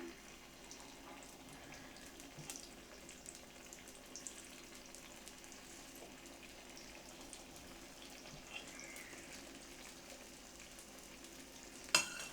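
Kuzhi paniyaram batter cooks in the wells of a paniyaram pan, giving a steady, faint sizzle and soft frying crackle that stays even throughout, with no talking.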